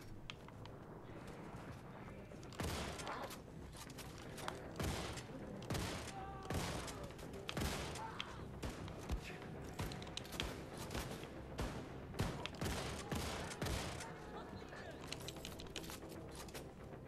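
Dense, rapid gunfire from a first-person shooter, Wolfenstein II: The New Colossus, with sharp bursts and blasts throughout over a busy game soundscape, loud and continuous with heavy action.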